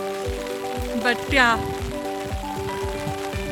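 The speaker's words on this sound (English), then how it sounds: "it has started raining" Rain falls outdoors on the Kaas Plateau, a steady patter of drops on surfaces throughout, with someone speaking briefly over it.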